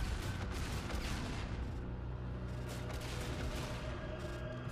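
Sustained, dense automatic gunfire from a Call of Duty Beast From Beyond zombies match as players shoot at mammoths: loud, rapid, overlapping shots with booming undertones, continuous throughout and without talk.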